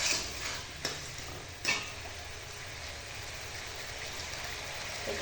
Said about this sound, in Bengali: এই যে জল দিয়ে দিচ্ছি